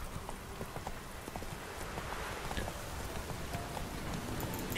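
A horse gallops in The Witcher 3, its hooves giving a steady, fast clip-clop at moderate distance over a constant wash of background noise, with no talk.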